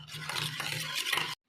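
Egg beaten with salt and chilli for a bread omelette, stirred briskly in a bowl with a close, continuous wet swishing and faint scraping that stops abruptly.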